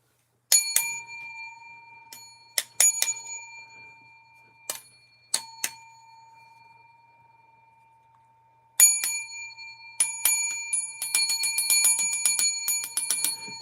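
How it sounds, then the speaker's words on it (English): A small hand-struck bell, rung as a cash-register ding, chimes in scattered single strikes and quick pairs with ringing tails, then in a rapid flurry of repeated dings toward the end, close and clear with no talk. "I've got my own bell"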